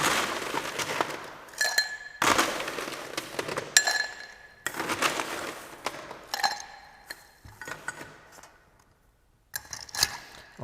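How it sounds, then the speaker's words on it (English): Ice cubes drop into a glass cocktail mixing glass with several bright, close clinks and rattles in bursts, separated by brief pauses and with no talking. "Add ice to your mixing glass."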